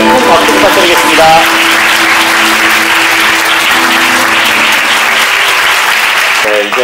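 Wedding guests at a Disney-themed Korean wedding ceremony applaud loudly and steadily for the bride and groom, a dense continuous clapping that fills the hall with a voice and music faintly underneath.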